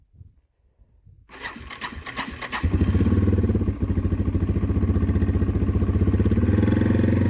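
A Yamaha TW200 motorcycle engine with a hard-starting problem cranks with a clattering starter, then fires up and settles into a loud, steady idle thumping with a brief stumble partway through; no one speaks.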